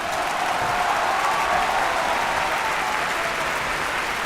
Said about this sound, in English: I think that is applause-worthy.